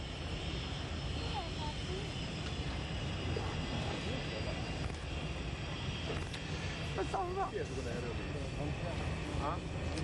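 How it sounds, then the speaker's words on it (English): An airplane taxiing, a droning engine roar held steady through the stretch, with a news reporter talking over it for much of the time. "There's the plane taxiing."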